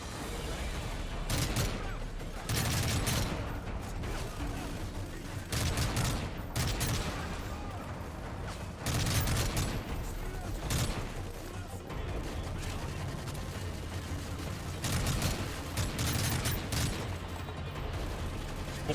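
Rapid bursts of gunfire from the Call of Duty: Modern Warfare 3 video game, loud and nearly continuous with repeated volleys and heavy impacts throughout.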